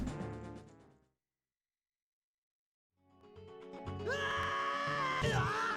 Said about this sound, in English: I love the sound of adult Link screaming